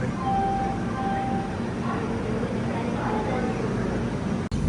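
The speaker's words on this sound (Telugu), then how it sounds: "ఇప్పుడు ఆ ట్రైన్ కొడలూరు పోర్ట్ నుంచి మైసూర్ అయితే వెళ్తుంది." Rumbling train noise heard from aboard a moving superfast express, a steady low rattle and hum with faint squeals, while a person talks over it.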